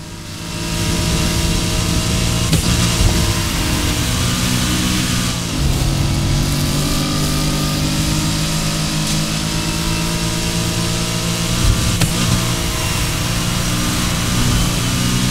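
A BMW M3 E46 with a swapped-in V8 engine in the racing game Need for Speed Heat, revving and droning steadily at high load for fifteen seconds, loud and continuous with brief shifts in pitch.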